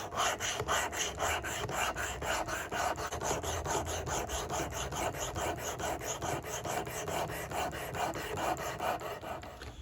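Sharp, steady rhythmic rasping of a Simmons broadhead edge being ground on a hand-held sharpening system, repeated strokes at an even pace, close and loud throughout with no talking.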